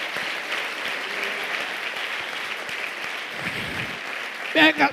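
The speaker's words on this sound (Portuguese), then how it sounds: "Uma salva de palmas bem forte." A church congregation applauds loudly, a steady spread of clapping heard at moderate distance for several seconds, ending with a couple of brief louder bursts.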